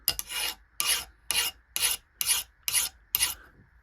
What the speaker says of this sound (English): That's what soft metal sounds like.